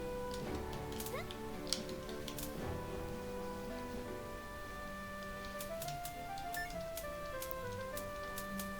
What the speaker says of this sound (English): there's also a cat to pet in here